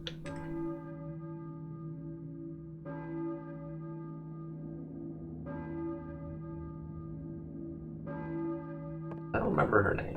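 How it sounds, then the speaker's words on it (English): A church bell in the video game Silent Hill 1 tolls four slow strokes, each ringing out and decaying before the next, followed by a brief burst of louder noise. "I hear a church bell."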